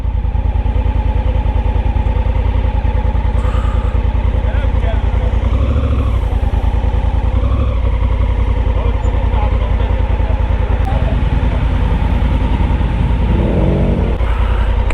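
Cars and motorcycles idle and rev at a fuel station with a steady engine rumble, while someone talks over it throughout.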